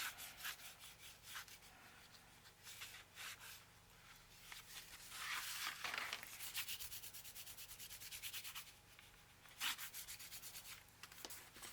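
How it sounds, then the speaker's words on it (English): Paper being burnished down along a fold while binding a dos-a-dos book, soft close rubbing strokes in an uneven back-and-forth rhythm, faint and quiet with no talking. "I'm going to burnish that down."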